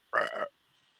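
A single short voiced burp-like grunt, a person imitating a horse belching while cribbing on a stall door, lasting under half a second, close and fairly loud, followed by quiet.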